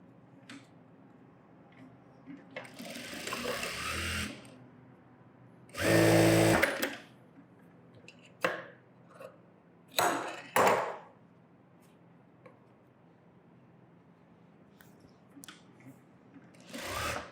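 A sewing machine stitches fabric during a tailoring lesson, joining two pieces in a straight seam. It runs in short, fast bursts, with quiet pauses and small handling clicks between them.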